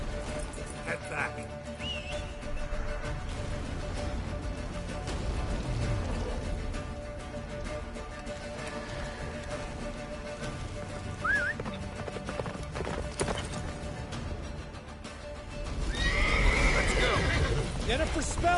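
Roach the horse in The Witcher 3 gallops with steady hoofbeats and whinnies loudly, with a louder neigh near the end, while game voices and music sound throughout.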